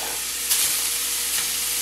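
Venison burger patties fry and brown in a skillet, giving a dense, even sizzle with faint spatters and no voices.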